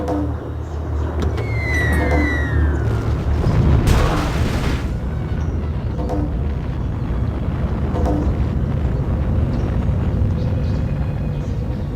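Nuclear bombs strike a city in Civilization V, bringing a heavy, rumbling blast that swells around the four-second mark over a dense low roar and sustained game noise, with no speech.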